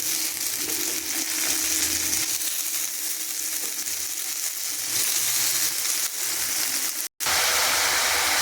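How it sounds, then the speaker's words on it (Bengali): Chopped onion and chilli fry in oil for a dish of fried water lily stems, a steady close sizzle with faint stirring and a brief dropout near the end. "পেঁয়াজটা মোটামুটি ভাজা হয়ে গেছে, গন্ধ বেরিয়ে গেছে। এবার দিয়ে দেবো শাপলাগুলো।"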